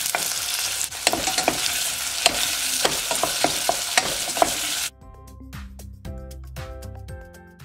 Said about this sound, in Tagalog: Pagkatapos, hintayin natin uminit at ilagay na ang sibuyas. Lutuin lamang ang sibuyas.